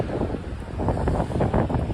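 Steady gusty wind roaring and buffeting down a Midtown Manhattan street at night, loud and continuous, with no voices.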